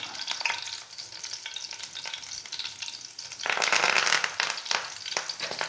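Curry leaves drop into hot oil for a fish curry. The sizzle is soft and crackly and swells into a brighter burst midway. Light stirring accompanies it, and no one speaks.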